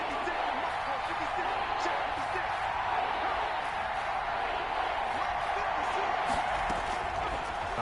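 Stadium crowd noise from a Madden 21 football game swells steadily as a big third down approaches, a dense continuous roar with scattered shouts and claps, with voices mixed in.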